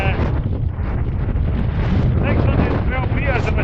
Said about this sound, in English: It's a bit breezy up here, I hope you can hear me.